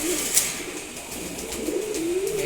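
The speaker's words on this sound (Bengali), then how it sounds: "আমার খুবই পছন্দের একটা নর কবুতর" A pet male pigeon coos in a low, rolling voice that rises and swells over a few seconds, close by, with faint background hiss and no talking.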